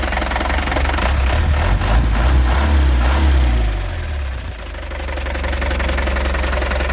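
Used Hino or Isuzu truck with a diesel engine being revved, a loud close rumbling roar that rises, drops back toward idle, then keeps running with a steady knock.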